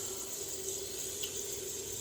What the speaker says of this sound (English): got to fill up my thing of water here